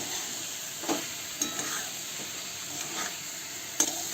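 Potato slices sauté with Kashmiri chili and salt in a pan over high heat, giving a soft, steady sizzle with a few sharper stirring clicks and scrapes spread through the clip. No one speaks.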